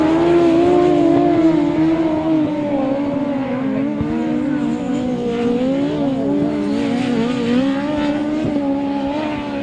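Grasstrack racing motorcycles roaring round a lap at a 2009 memorial meeting, a loud sustained engine drone with wavering pitch as the bikes rev, shift and pass, continuous throughout.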